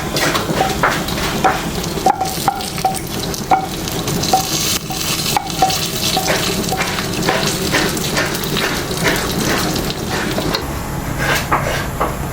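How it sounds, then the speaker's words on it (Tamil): Vegetables sauté in oil for a veg salna, with a steady close sizzle under repeated scraping and stirring strokes against the pan throughout. "இந்த எண்ணெயிலே எல்லாத்தையும் வதக்கணும்."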